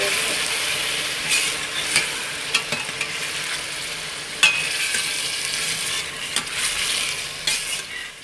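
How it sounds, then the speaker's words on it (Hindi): Chicken is stir-fried in a pan for chicken nihari, a continuous loud sizzle with occasional scraping and tapping from the stirring spoon. "अब इसमें चिकन को अच्छी तरह भून लेंगे"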